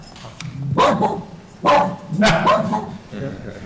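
A dog barks a few times in the room during a finance committee meeting. The barks are short and fairly close, and people talk around and between them.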